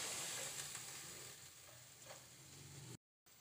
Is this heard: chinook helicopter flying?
no